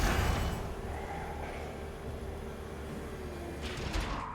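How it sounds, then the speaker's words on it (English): A door slides open in the SOMA horror video game, a long steady mechanical hiss and rumble ending in a brief clunk, loud and filling the scene. "Please stop opening doors that I have closed."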